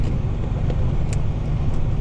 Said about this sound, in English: today it's all frozen, so it's like driving over like the tundra